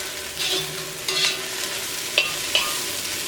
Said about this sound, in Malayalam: ചില്ലി സോസ് ഇതേപോലെ നമ്മൾ ആദ്യം ചേർത്തിട്ടുണ്ടെങ്കിൽ ഈ ഓയിലിൽ കിടന്നിട്ട് അത് നന്നായിട്ടൊന്ന് മൊരിയുകയും ചെയ്യും